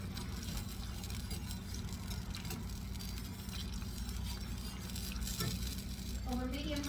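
Dry red wine sizzles loudly in a hot pan over medium-high heat as it is stirred, a dense continuous hiss with scraping strokes throughout and faint background sounds near the end.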